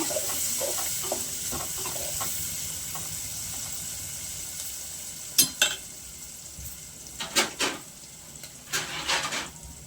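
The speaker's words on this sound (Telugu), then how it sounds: "ఉల్లిగడ్డలు కలుపుకుందాం బాగా" Chopped onions frying in a pan for a country chicken curry, a steady soft sizzle under repeated stirring, with a few louder scraping clinks of the spoon later on.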